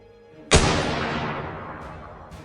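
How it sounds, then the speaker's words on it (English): A single loud gunshot sound effect played during a tabletop Dungeons & Dragons game session, a sharp blast followed by a long, slowly fading echoing tail with no talk over it. "you guys hear another gunshot. Boom."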